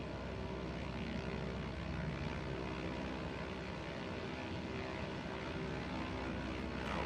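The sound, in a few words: Cessna airplane engine in video game Microsoft Flight Simulator 2024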